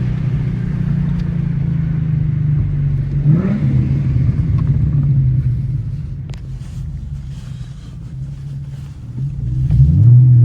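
Street cars at a night-time car meet rumble loudly nearby, a heavy low engine drone that dips and swells, ending in a rising surge of acceleration.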